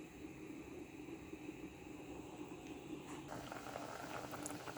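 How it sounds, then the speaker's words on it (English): Ackee simmers in a pot of boiling water, giving a faint, steady bubbling hiss that continues without a break throughout, with no one speaking. "we're waiting on our ackee to complete boiling"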